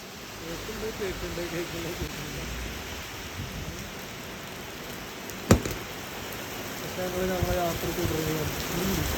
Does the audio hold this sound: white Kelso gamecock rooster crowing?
no